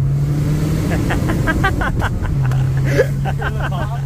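A 2015 Subaru WRX on coilovers revs its engine from inside the cabin, with a steady engine drone and a brief exhaust pop near the end while people talk excitedly over it.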